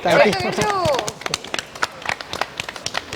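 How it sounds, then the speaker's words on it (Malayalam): Audience applause on a Kerala comedy show, a burst of scattered hand clapping that thins into irregular claps, following a voice at the start. "കയ്യടി."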